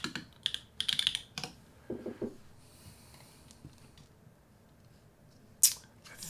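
Clattering keystrokes on a computer keyboard during work on an X-Wing Manta build, arriving in short bursts of taps with pauses between, fairly close and alone, ending with one sharper click.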